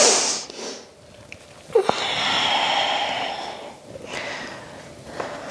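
Loud nasal sniffles close to the mic, several sharp inhalations through the nose separated by quieter breathy stretches, with no talking.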